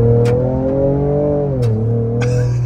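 A Ford Ranger Raptor engine revs with a loud, steady exhaust note that rises and dips slightly, close and continuous with no talking.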